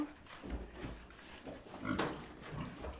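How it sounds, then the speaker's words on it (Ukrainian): Low, soft grunting from pigs amid a noisy barn-like background, fairly faint and continuous. "Ось це поросятка."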